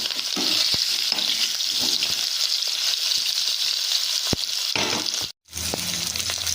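Potatoes and onions fry in a pan with a bright continuous sizzle and scattered stirring clicks, close and loud, briefly cutting out near the end before resuming.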